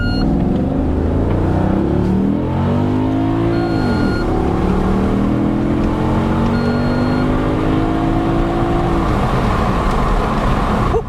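A misfiring Maserati Quattroporte S in paddle shift mode revs loudly and close by, its engine pitch climbing and dropping in sweeping surges with a rough, uneven edge and no voices.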